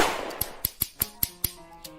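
Gunshots in a video game duel set around a saloon: six sharp, evenly spaced cracks with bright metallic ringing, then a seventh after a longer pause, each shot cutting off quickly.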